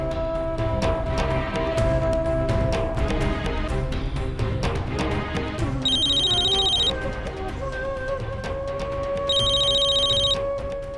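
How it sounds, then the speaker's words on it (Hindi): A telephone rings in short electronic bursts, twice, over a busy background of music and clatter. "पूर्वी, तेरा फोन।"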